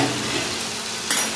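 Fried black cumin seeds go into a spice masala being cooked down in a pan for koi fish tel jhal, giving a steady close sizzle with a brief louder crackle near the end.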